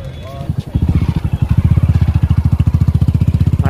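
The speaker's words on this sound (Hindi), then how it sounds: "बहुत लोगों को देख रहा हूँ बाइक से आ रहे हैं जा रहे हैं" Motorbikes passing over a swaying pedestrian suspension bridge in Rishikesh, a close, loud engine thrum with fast pulsing firing beats that build and hold steady, with faint voices of people on the bridge behind.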